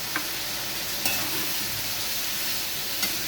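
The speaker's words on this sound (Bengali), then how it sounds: "এবার আমি এতে দিয়ে দিচ্ছি কুচি করে রাখা টমেটো।" Chopped tomato goes into a pan of spices for a papaya curry with peanut and coconut, and a steady, even sizzle fills the pan with a few faint stirring clicks.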